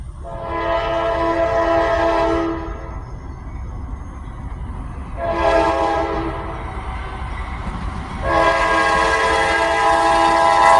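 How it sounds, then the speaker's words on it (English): A loud Norfolk Southern freight train horn blows three long blasts over a steady rumble of the passing train, close by and continuous throughout. "And now will be our final train of the day, NS 11K."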